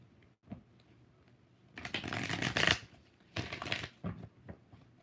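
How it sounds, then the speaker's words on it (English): Tarot cards being shuffled by hand in two bursts of riffling, close and crisp, with quiet pauses and a few small taps between. "7 shuffles."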